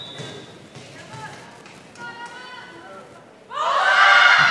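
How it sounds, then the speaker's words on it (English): A volleyball crowd at a college senior-night match murmurs and calls out, then swells suddenly into loud, sustained cheering and shouting just before a serve, with a commentator talking over it. "the crowd looking for the ace from Emma, making lots of noise"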